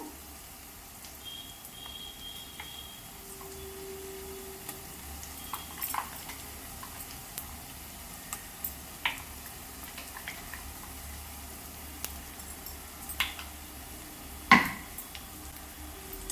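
A spoon stirs masala paste into a curry in a pot, making soft, faint scraping and sizzling sounds, with a few light clinks of metal against metal scattered throughout.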